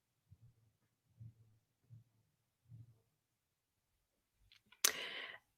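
Sharp computer mouse clicks, four evenly spaced single clicks close to the microphone, followed by a brief louder burst of broadband noise near the end.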